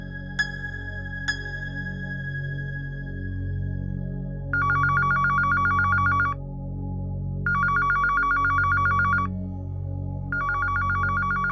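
A telephone rings in repeated electronic bursts, three long trilling rings after two brief chirps, steady and moderately loud indoors with a low background hum.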